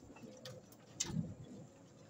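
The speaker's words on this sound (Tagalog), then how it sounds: "Ang ating mga ibon, ayan oh." Pigeons cooing inside a loft: a soft, low coo rises briefly from faint background murmur, with a sharp clack and a few light knocks nearby.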